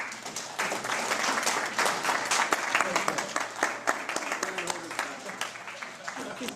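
Audience at a passenger rail summit breaks into applause, a dense, sustained patter of clapping from a crowd that tapers slightly toward the end, with some voices mixed in.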